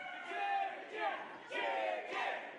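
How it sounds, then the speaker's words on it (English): A wrestling crowd at a pro wrestling show chants in unison, a rhythmic rising-and-falling chicken chant repeated in several bursts, heard from within the arena at moderate loudness. "Preston Riker starting a chicken chant."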